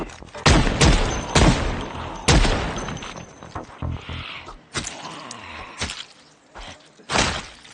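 Several M1911 pistol shots fired at zombies in the survival game Project Zomboid, loud sharp cracks arriving in irregular bursts, some close together, with dull game noises in between.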